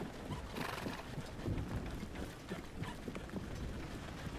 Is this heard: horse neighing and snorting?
yes